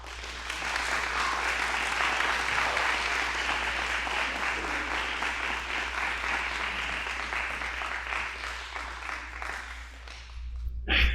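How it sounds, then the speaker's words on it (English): Sustained applause from a concert audience for a percussion ensemble, a dense steady wash of many hands clapping for about ten seconds before tapering off at the end, with a low hum underneath. "all of these percussionists deserve a round of applause"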